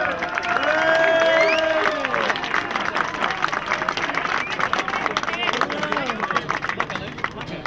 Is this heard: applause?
yes